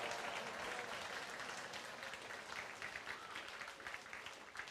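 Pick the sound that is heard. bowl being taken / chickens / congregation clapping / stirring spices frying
congregation clapping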